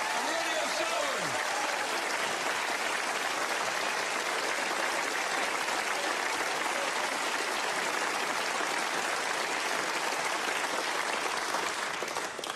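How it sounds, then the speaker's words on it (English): Sustained applause from the audience after a snooker final between Corin Wilson and Ronnie O'Sullivan, a dense, steady roar of clapping that fills the whole stretch, with a brief voice at the very start. "let's have a round of applause for both players after a wonderful final"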